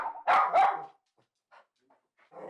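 An excited dog barks twice in quick succession, loud and close, indoors, followed by a few faint small sounds and a soft trailing noise.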